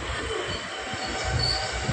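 A passenger train pulls into Kulithalai station, its wheels grinding and squealing on the rails in a short, loud burst heard from close by, with no talk.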